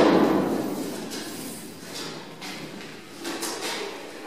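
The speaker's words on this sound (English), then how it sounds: "The deck consists of portable plates, which I'll try to lift one to take a look at the tops of the tanks below." A heavy portable steel deck plate aboard a battleship is lifted, giving a loud scraping thud at the start followed by fainter metallic clunks and shuffling in an echoing interior space.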